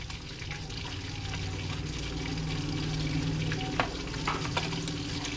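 Cooking oil heating in a hot wok before garlic and onion go in for pinakbet, a close, continuous frying hiss with a few sharp spatters and pops near the end, no talking.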